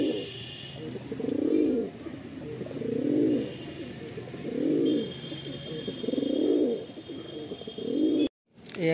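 Madrasi pigeons coo in a steady series of five soft, rolling calls at regular intervals, close by and clear over a faint background hum, with no talk.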